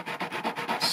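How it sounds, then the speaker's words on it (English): The wooden foot of a hurdy gurdy buzzing bridge (chien) slides back and forth on 320 grit sandpaper, making about five quick, even rasping strokes close up with no talk. "put a piece of 320 grit sandpaper underneath, and then just"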